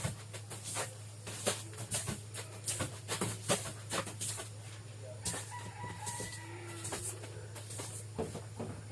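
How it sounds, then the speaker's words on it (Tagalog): Chickens cluck repeatedly and a rooster crows loudly nearby, with a steady low hum running underneath throughout. "Manok na ito."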